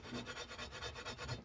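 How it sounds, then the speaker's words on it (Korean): A blue-tongued skink's claws scrape and rasp on a flat stone slab near its food bowl, a close, steady gritty rubbing in quick repeated strokes with no voices. "밥 먹으러 올라오면서 발톱이 조금씩 갈리거든요."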